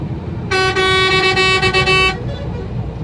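A bus sounds a long, loud horn blast on a highway beside a large lorry reversing, the honk lasting under two seconds over steady road noise.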